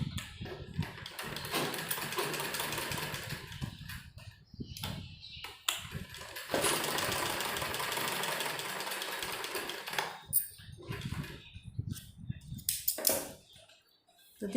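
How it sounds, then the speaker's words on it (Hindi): A sewing machine stitches a bell sleeve in fast rattling bursts, loud and close, separated by short pauses as the fabric is adjusted. "और अब हम एक सिलाई हम यहाँ लगाएंगे।"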